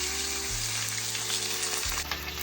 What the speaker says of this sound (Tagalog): Prito lang gusto ko eh.